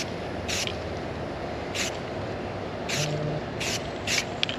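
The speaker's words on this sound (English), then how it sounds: "I'm just going to be spray painting the area where you see the stainless steel." An aerosol can spray-paints a stainless steel tumbler in five short hissing bursts spaced about a second apart, close up over low room noise, without talk.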